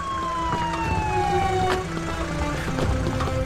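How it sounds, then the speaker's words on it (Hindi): An ambulance siren sweeps downward in pitch over a dense, busy background of traffic and crowd noise, with a continuous wailing tone and no clear speech. "आ गई, एम्बुलेंस आ गई"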